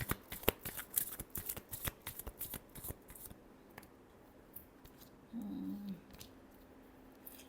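Tarot cards shuffled by hand, a quick run of crisp riffling flicks and slaps close up for about three seconds, then quieter handling with a brief low hum near the end.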